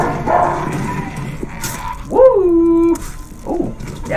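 A dog in a TV show whimpers and yips, then lets out a long rising whine, close and loud, with a short bark-like yelp after.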